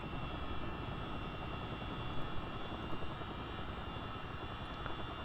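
Aircraft engines drone in a steady, unbroken roar at full takeoff power, a dense and constant hum that holds at an even level throughout.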